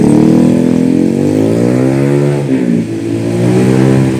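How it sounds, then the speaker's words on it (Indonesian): A tour bus engine revs and accelerates as the bus pulls away from a station, a loud close mid-pitched roar rising and dipping in pitch with no talk. "Inilah bus berkah Kreo akhirnya lepas landas juga"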